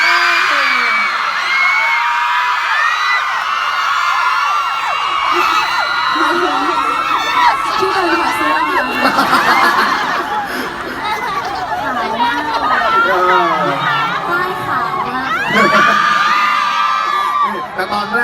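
A crowd screams, whoops and cheers at a Thai silk fashion show, a loud continuous roar of shrill voices that swells and falls throughout with chatter mixed in.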